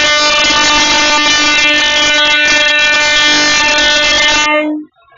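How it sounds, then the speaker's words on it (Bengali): A train horn blares loud and sustained for several seconds as the train departs Berhampore station, a rich harmonic blast that cuts off abruptly near the end. "আর ট্রেন একদম কানের মাথা বাজিয়ে ছেড়ে দিল"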